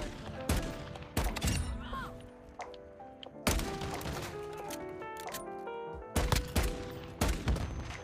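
Call of Duty gunfire rattles in bursts of rapid shots with short gaps between volleys, loud and close against the game's background sound.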